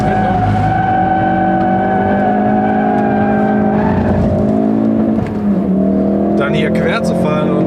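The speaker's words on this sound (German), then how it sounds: "so hier den ersten Drift" A 2016 Ford Focus RS with 350 PS drifts in drift mode, its engine note loud and sustained from inside the car with shifting pitch and tire noise, while someone talks over it.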